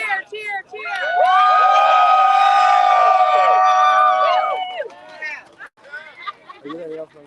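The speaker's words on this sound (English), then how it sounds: "Everybody cheer, cheer, cheer." Hospital workers at a safe-staffing rally in Nashville cheer and whoop loudly together in a sustained burst of crowd shouting, followed by scattered voices as the cheer fades.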